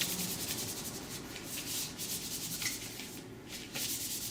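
Wax hair-removal strips containing chamomile and calendula are rubbed briskly together to warm them, giving a steady close-up rasping and rubbing that continues for several seconds with no voices.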